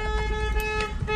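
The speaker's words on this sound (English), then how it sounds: "Honking for this peace" A car horn honks in short toots at an outdoor gathering at San Jose City Hall, close and loud, with people's voices mixed in around it.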